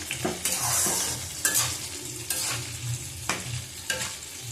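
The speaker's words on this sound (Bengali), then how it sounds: "দেবো কাশ্মীরি লঙ্কার গুঁড়ো 1 চামচ। ভালো করে কষিয়ে নেব মশলাটাকে।" Spice paste with a spoon of Kashmiri chili powder sizzles in oil for yogurt chicken, with close frying hiss and repeated scraping stirs at an uneven rhythm.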